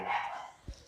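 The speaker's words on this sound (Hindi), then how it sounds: "गलियों में कुत्ते भौंक रहे हैं" Dogs barking out in the street, faint and distant, a few short barks under a steady background hum, with one soft low thump near the end.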